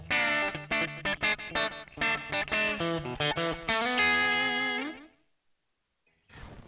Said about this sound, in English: Here's a Fender Bassman for a thinner sound.